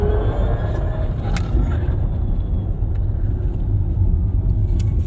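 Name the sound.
Neta V electric car driving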